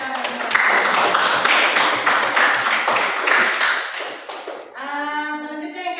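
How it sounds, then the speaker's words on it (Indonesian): Schoolchildren in an Indonesian classroom clap their hands together in a steady, dense patter for several seconds, fading out before a voice speaks briefly near the end. "Ya, tepuk tangan."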